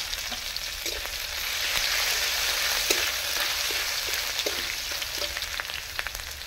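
Ground ginger frying in hot oil with a little sugar in a wok, a continuous close sizzle that swells slightly midway, punctuated by scattered crackles and stirring clicks, no voices.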